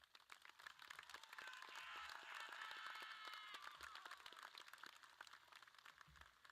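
A crowd at a high school graduation ceremony applauding, steady clapping that swells in the middle and then gradually thins out, heard from a distance.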